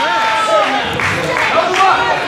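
A wrestling crowd at an independent Warriors of Wrestling show roars and cheers for Tony Booze, a noisy, swelling wall of voices with a commentator talking over it.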